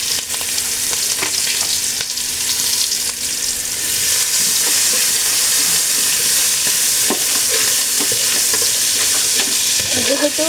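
Black cumin, cumin and chopped onion hit hot fish oil in a pan, giving a loud, dense, continuous crackling sizzle with a few faint clinks scattered through.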